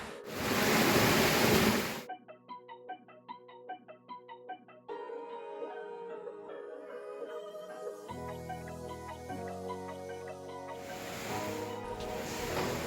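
Clean water flows loudly through a canal at the start and swells again at the end, with music playing in between.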